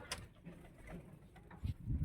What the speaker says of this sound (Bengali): এই যে পায়রা এসে গেছে, জড়িয়ে গেছে, ছাড়িয়ে দিতে হবে।